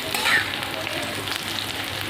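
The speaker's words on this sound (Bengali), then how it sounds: "উচ্ছে কটা ভাজা ভাজা করে নেব, হালকা করে একটু ভাজা ভাজা করে নেব।" Sliced bitter gourd fries lightly in a pan of oil, giving a steady, close, even sizzle with no talk over it.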